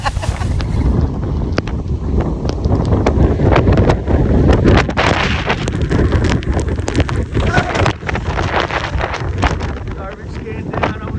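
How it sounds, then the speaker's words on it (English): Strong wind gusts buffet the microphone at an Islamorada marina during Hurricane Idalia, a loud rushing roar with sharp bursts and rattling among moored boats, with people talking underneath. "That's a big gust of wind to blow that thing over."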